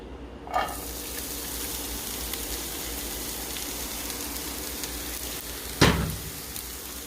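Onions frying in a pan for stuffed cabbage, a steady soft sizzle throughout, broken by two brief louder clatters, the second near the end.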